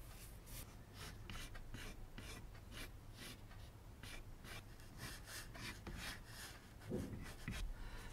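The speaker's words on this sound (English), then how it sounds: "I'm just going over it in chalk just to see what it looks like on the actual pieces of wood" Chalk scratches across guitar wood pieces in quick repeated scraping strokes, close and steady, with no talking.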